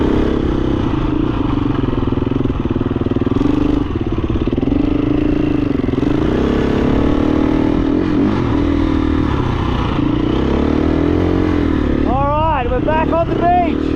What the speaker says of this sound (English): I'm gonna put this motorbike back into gear.